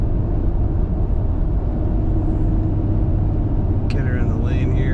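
A 2009 Toyota FJ Cruiser rolls along a road with a steady low engine and tyre rumble heard from inside the cab, and a brief click near the end.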